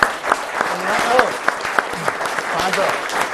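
An audience at a motorcycle federation gathering in Veneto breaks into brisk, sustained applause, a dense patter of many hands close by, with a few voices talking over it.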